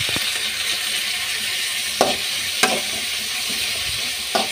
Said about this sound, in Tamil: இதையும் கொஞ்சம் நல்லா வதக்கிடுவோம்.